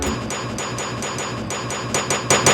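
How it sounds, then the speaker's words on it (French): A rubber-tipped Lego hammer tapping plastic bricks together, a run of about a dozen quick, fairly regular taps at close range that grow slightly louder toward the end, with no talking. "possède une extrémité en caoutchouc pour ne pas abîmer les pièces en tapant"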